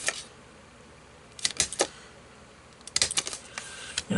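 A hole punch goes through paper cards being made into chemistry 3D models, with clusters of sharp clicks and clacks around the middle and again near the end, close and fairly quiet, no talking.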